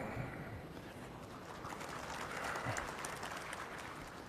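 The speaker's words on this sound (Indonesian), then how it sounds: "Jangan terlalu sering tepuk tangan." An audience applauds during a speech by Indonesian President Prabowo Subianto, a dense, steady wash of clapping from a large crowd that holds for several seconds at moderate distance, with no speech over it.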